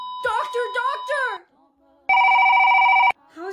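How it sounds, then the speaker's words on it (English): A telephone rings once with a loud, bright electronic trill lasting about a second, coming right after a short stretch of synthetic text-to-speech voice. More speech picks up just after the ring. "How is it ringing? It's not even plugged in."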